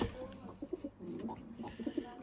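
Limoni breeding pigeons in a loft give soft, low, throaty coos that repeat close by with rhythmic pulses against a faint room hum.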